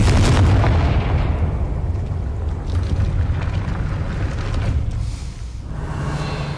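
Confringo blasting spell from Hogwarts Legacy erupts in a loud, rumbling explosion at the start, followed by a long rolling boom and whooshing debris that fades over several seconds, with no talking.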